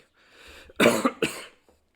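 A single close cough, two sharp bursts after a faint breath, then quiet.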